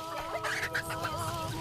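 A chicken clucking in an African village in the late afternoon, a few short, fairly faint throaty clucks over quiet outdoor background.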